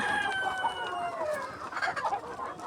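Chickens cluck in a row of egg-laying coops while a rooster crows, with drawn-out calls over a busy patter of nearby clucking, fairly quiet and free of speech.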